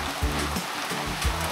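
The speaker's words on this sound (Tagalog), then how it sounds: "lumalakas po yung ulan" Heavy rain pours steadily outdoors, a dense continuous hiss with low rumbling pulses, loud and close throughout.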